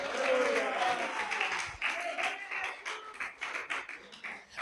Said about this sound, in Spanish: Aplauda a Dios por eso.